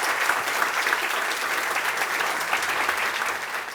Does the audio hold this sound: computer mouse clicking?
no